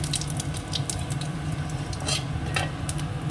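Dried red chillies and cumin seeds sizzle in a little hot oil in a wok, a steady close crackle with light scraping and stirring clinks on top.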